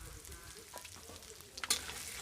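Steady hiss and crackle of a tempering of whole cumin and spices in hot oil as grated coconut is tipped into the pan, close, with a brief louder spatter near the end.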